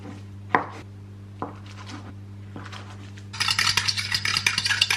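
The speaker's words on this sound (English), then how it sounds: "I'm just gonna cut them into bite-sized pieces" A knife cuts homemade sausage rolls into bite-sized pieces on a board: a few sharp, separate knocks, then a busier stretch of crisp, rapid cutting and scraping close by, over a steady low hum.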